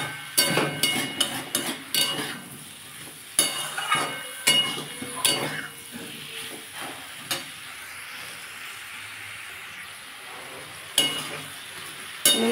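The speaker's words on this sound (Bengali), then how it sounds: "এরপর আমি ঝিঙেগুলো দিয়ে দেবো, ধুয়ে রাখা আছে কেটে। এটাও বন্ধুরা একটু কষিয়ে নেবো।" Ridge gourd sautéed in a pan for a potato and bori broth, with a spatula repeatedly scraping and clinking against the pan in irregular bursts over a soft, steady sizzle, close by and with no talking.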